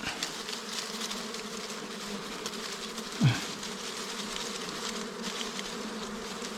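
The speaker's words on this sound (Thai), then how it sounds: "เดี๋ยวนางพญาก็บินไปเกาะรังแล้วก็เพ่งงานก็ตามไปเกาะครับ" A swarm of honeybees buzzing and flying around their hive as the queen flies in to settle and the workers follow. A steady, close, droning hum runs throughout, and one louder insect passes near the middle.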